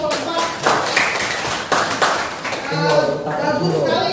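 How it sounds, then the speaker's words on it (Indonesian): A class applauding a student group, with brisk clapping from many hands alongside children's chatter and a voice talking over it, steady and fairly close throughout. "Beri aplaus untuk kelompok"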